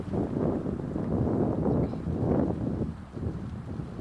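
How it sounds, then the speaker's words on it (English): Gusty wind buffeting the microphone outdoors during a wedding ceremony ring exchange, a continuous low rumble that swells and eases, close and fairly loud. "it's a little bit windy here."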